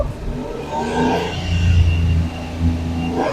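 Suzuki Alto VXR 2023 petrol engine revving close by at a workshop during a tune-up, a steady mid-pitched hum that climbs and swells through the middle before easing slightly, with no talking.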